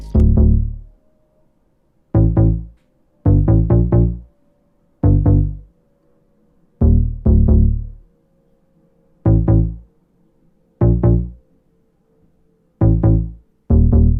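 Punchy synth bass notes played alone in short, separated hits, some repeated in quick pairs and triplets, each decaying quickly into silence.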